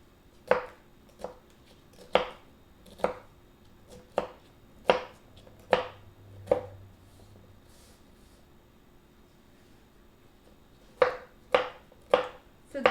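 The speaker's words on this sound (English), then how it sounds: "now I'm chopping the bell pepper" A knife chops bell pepper on a cutting board in a home kitchen, with crisp, evenly spaced strokes in two bursts split by a quiet pause of several seconds.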